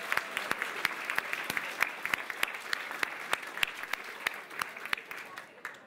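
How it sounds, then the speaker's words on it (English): Thanks to sponsors at the Lincoln Barons' charter auction draw clapping from the audience: a moderate crowd applause with many distinct, crisp nearby claps standing out over the background patter, tapering off at the end. "Big round of applause for them."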